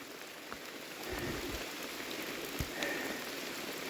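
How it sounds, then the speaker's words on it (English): Light rain falls steadily on the Long Trail during a section hike, a soft, even patter with occasional nearby drops hitting closer, quiet and without talk. "by the way, it's raining"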